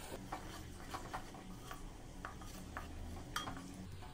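Prawn curry with salt stirred in a pot, faint scraping and clinking of a spoon against the pot in a loose repeating rhythm over low background noise, no speech.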